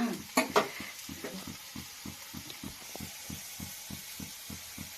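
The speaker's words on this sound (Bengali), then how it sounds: "সেই গ্যাসটা এরকম শব্দ হচ্ছে কেন" A gas stove heating mustard oil in a pan gives a steady hiss under a regular, rapid pulsing thump, close and fairly quiet, after a couple of louder clinks at the start.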